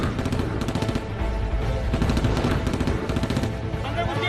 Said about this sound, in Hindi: दोनों तरफ से जो है गोलियां चलनी सुनाई दे रही है।